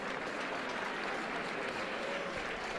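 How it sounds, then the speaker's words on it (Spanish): Stadium crowd at a Ponferradina versus Deportivo de La Coruña football match giving a player an ovation as he comes off: a dense, even wash of distant applause filling the whole stretch, with no voice heard. "Sigue Julen Castañeda y Yuri, que recibe la ovación del día"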